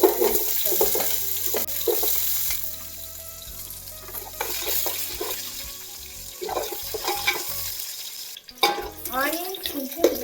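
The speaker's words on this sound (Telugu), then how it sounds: "కట్ చేసుకున్న ఆనియన్స్ వేసుకోవాలి." Cut onions frying in a pan with whole spices for chicken biryani, a steady close sizzle with stirring scrapes and a brief splash of tap water near the end, no talk heard.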